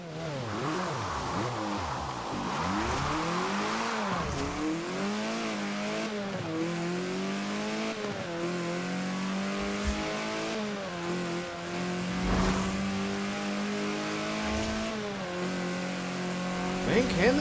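A car engine in the racing video game Forza Horizon 4 revs and accelerates repeatedly, with rising and falling tones shifting through gears, loud and continuous throughout.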